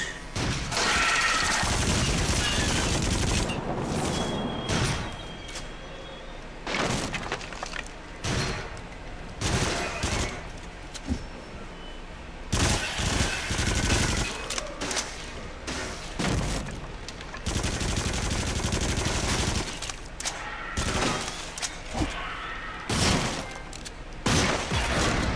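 Grenade launcher and other weapons firing in the VR game Until Dawn: Rush of Blood, heard as loud repeated blasts, booms and crashing impacts in dense bursts, close and continuous across the stretch.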